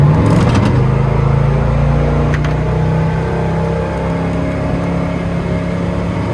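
A boat's outboard engine runs hard with a 17-pitch propeller fitted, a loud, steady droning roar that eases slightly partway through, with no voices heard.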